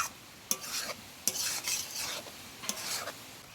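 Pasta made with chapati wheat flour being stirred in a pan over heat, a soft sizzle underneath three sharp utensil scrapes and clinks spaced about a second apart, close and clear with no talking.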